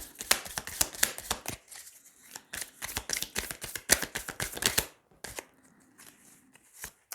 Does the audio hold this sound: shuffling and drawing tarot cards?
yes